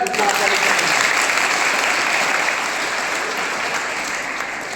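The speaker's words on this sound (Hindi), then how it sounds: "जोरदार ताली बजाएं।" Loud clapping from a school gathering of students at a laptop distribution event, a dense burst of many hands that starts strong and slowly tapers, with a voice briefly audible at the start.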